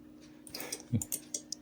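Computer mouse clicks at a desktop, a few sharp separate clicks in quick succession with light keyboard-like tapping, close and fairly quiet with no talk.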